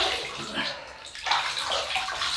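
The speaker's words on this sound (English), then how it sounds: "So what I'm going to do is wet the face now." Water splashes and runs as it is scooped onto a face before a wet shave, close, uneven sloshing and trickling with short pauses between splashes.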